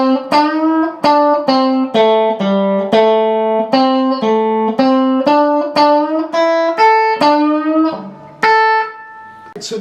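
Electric guitar slowly picks the opening measure of a song, a steady run of about twenty distinct single-note plucks with clean attacks, close and loud, no talking.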